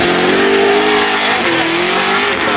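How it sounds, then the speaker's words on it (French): A Corvette C6 drift car at a pro drift qualifying event in Ste-Croix, Québec, accelerating loudly with a sustained high-revving engine note that rises and dips, tires squealing throughout. "c'est parti pour Rodrigue dans son Corvette C6 Blast Force Canada"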